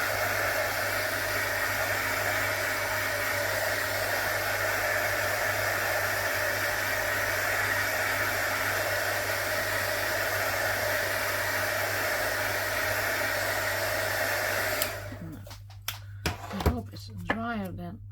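Hair dryer blowing on ink, a steady loud close roar that runs for most of the clip before cutting off, followed by brief clicks and handling sounds.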